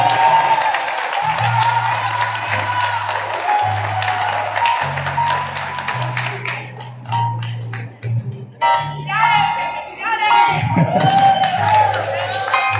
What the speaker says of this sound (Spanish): Fuerte aplauso a mi papá.